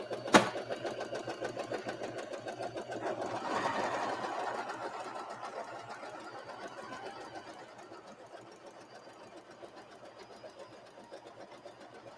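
A sewing machine runs steadily close by as it stitches fabric for a heater bag, a fast, even mechanical whirr that swells a little partway through and then gradually fades.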